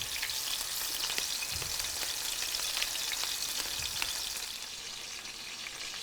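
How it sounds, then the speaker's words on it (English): Burgers frying in beef fat tallow: a steady, dense crackling sizzle with fine popping spatter, close and continuous throughout. "we're going to go ahead and lay it in our beef fat there"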